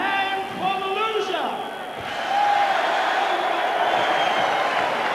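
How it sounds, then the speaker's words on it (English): A boxing arena crowd cheers and applauds for boxer Maurice Blocker after a fight decision, a broad, steady roar of clapping and shouting under a commentator's voice. "there you see the applause for Maurice Blocker"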